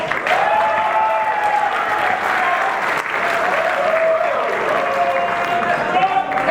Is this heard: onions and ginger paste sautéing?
no